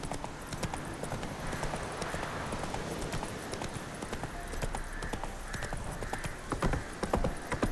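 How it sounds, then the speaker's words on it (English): Horse hooves clip-clop steadily in The Witcher 3 as the horse travels along a road, a continuous rhythmic trot over faint ambient wind. "Put horse on autopilot."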